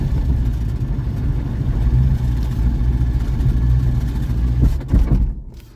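A 7.0L LSX-swapped Cadillac CTS engine runs steadily with a low rumble and surges in revs, then sputters and stalls abruptly near the end while crossing a speed bump.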